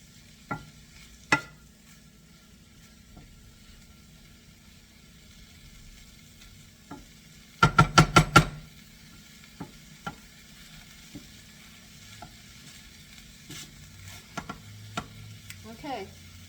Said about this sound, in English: Now we're just heating the spinach up in this, so I'm going to turn the flame up now.